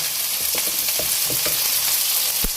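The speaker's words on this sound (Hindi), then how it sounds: "और इसको प्याज को अच्छी तरह भूनेंगे।" Chopped onions with garlic ginger paste fry in a pan, a steady close sizzle with soft scraping stir strokes every fraction of a second, no voices.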